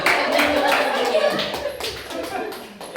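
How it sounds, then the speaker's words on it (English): A small class claps for a student volunteer, a short burst of close hand clapping with children's voices and a chuckle over it. "We round of applause for"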